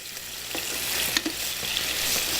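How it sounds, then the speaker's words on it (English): Scallopine sizzle and fry steadily in a hot pan as they are flipped, with a few soft scraping and stirring knocks over the constant crackle. "And we're going to flip the scallopine."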